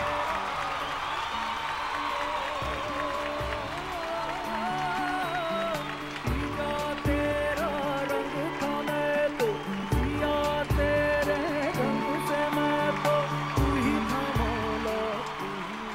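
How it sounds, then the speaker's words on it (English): Audience applause at a film awards ceremony honouring the Chak De India team, steady dense clapping from a large crowd with scattered cheers, sustained and fairly loud throughout, mixed with music and no clear talk. "Huge round of applause for Chak De India"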